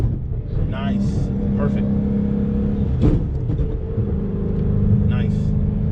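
A twin turbo Dodge Hellcat with a dog box transmission downshifts, its engine droning low and steady with quick revving blips between gears, while someone talks over it inside the car.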